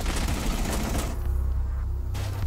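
Rapid bursts of gunfire in Valorant ring out loud and dense, a fast rattling fusillade that briefly thins mid-way before picking up again.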